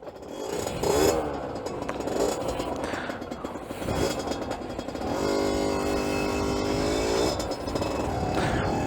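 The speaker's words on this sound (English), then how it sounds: "Good old kickstart, no electric start on this boy." A 2009 Aprilia RX50 50cc two-stroke motorcycle, kickstarted and then ridden: a loud, buzzy engine note rises and falls with revving, steadying into a sustained high drone in the second half, with no talk.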